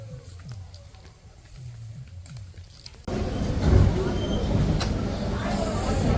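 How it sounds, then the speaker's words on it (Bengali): A train pulls out of Gede railway station near the India–Bangladesh border. Quiet rumbling under a speaking voice gives way to a loud, steady rolling roar of the moving carriages halfway through. "এই যে আমাদের ট্রেন কিন্তু গেদে স্টেশন ছেড়ে বেরিয়ে যাচ্ছে"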